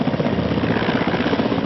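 An Indian Air Force helicopter thuds close and loud, its rotor beating in a fast, even pulse over a constant engine roar for the whole stretch, with no voices.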